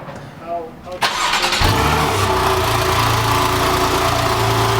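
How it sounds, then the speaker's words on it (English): A 2013 Porsche 911 (991) Carrera 2S with a 430 hp power kit cranks and fires up, then settles into a loud, steady rumble with revs rising over it, close by, after some faint talk. "We're going to do a bit of gratuitous engine firing here."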